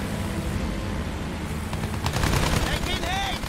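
Gunfire in the first-person shooter Battlefield 1, a dense burst of shots and impacts over a constant roar of battlefield noise, with no talking.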